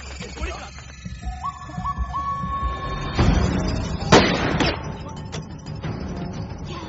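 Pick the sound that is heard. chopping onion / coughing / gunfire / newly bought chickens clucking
gunfire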